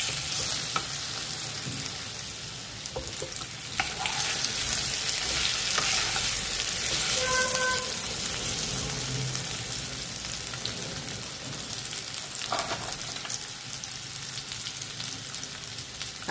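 Potatoes dropped into hot oil with tempered spices while making singara, sizzling and frying loudly and steadily, with occasional scraping stirs and clatters over the continuous hiss.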